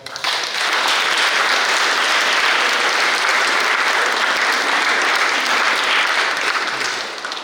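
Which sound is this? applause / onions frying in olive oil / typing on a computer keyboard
applause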